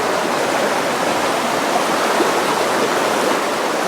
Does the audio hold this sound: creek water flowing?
yes